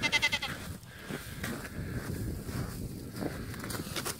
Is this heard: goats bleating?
yes